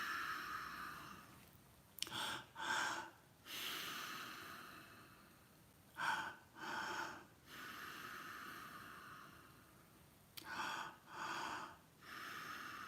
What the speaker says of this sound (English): it's a full inhale in 2 strokes